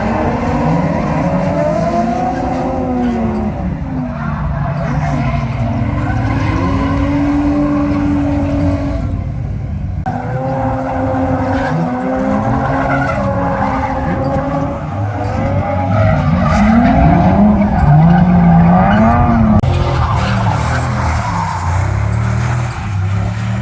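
Cars drifting at Showtime Speedway in Florida, loud engines revving hard under long, wavering tire squeals that keep rising and falling, with no break in the roar.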